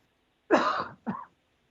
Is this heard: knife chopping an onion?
no